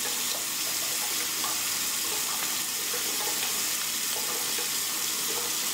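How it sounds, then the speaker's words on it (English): Tap water running steadily into a sink while shaving lather is rinsed off a hand, a continuous close hissing splash with no talking. "let me make sure I get all of this lather off my hand so as to not to mix the two"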